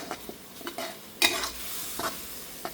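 Pad Thai noodles stir-fry in a tablespoon of oil, with a steady close sizzle broken by scraping stirs and a sharper burst of frying about midway, no voices.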